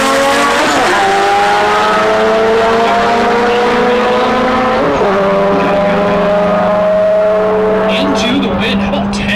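Drag race between a 1998 Acura Integra and a turbocharged 1.8-liter 1997 Honda Civic: loud, sustained engine roar with rising and shifting pitch through gear changes, close and dominant, with faint tire squeal and an announcer talking over it.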